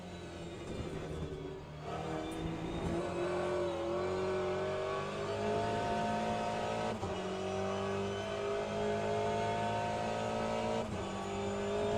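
Aston Martin race car engine in the Le Mans Ultimate racing game, a loud, steady high-revving drone with brief dips at gear shifts, running continuously without talk.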